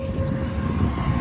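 A motorcycle engine running at idle makes a constant low drone, close by and steady throughout the short stretch, with no one speaking.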